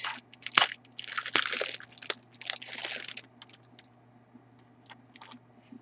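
Cardboard New Year envelopes being handled, with close crinkly rustles and scraping bursts, a sharp snap early on, then quieter sporadic taps fading out, with no talking.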